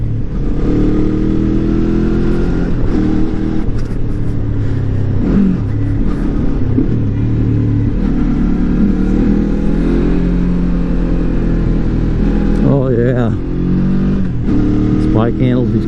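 A Lifan KPT 400cc motorcycle rides through corners near a historic site, its engine droning loud and steady with wind rush throughout and short rising revs near the end.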